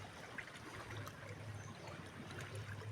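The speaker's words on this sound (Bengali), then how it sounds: "এই যে দেখুন কী সুন্দর জলটা বলকানি মারছে," Water bubbles softly through the gills of a small river creature in the Sundarbans, a faint, continuous trickling burble close by with no voices.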